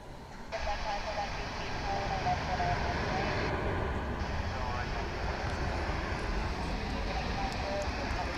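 An American Airlines jet airliner takes off from runway 18 left at DFW, its engines a loud, broad roar that swells and holds steady from a distance.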